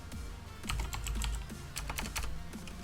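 Typing text on a computer keyboard: a quick, uneven run of close, clear key clicks and taps with a low thump beneath, and no talking.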